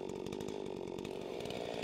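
A chainsaw runs steadily at high revs while felling a tree, its buzzing engine drone continuous and unbroken, heard from a moderate distance.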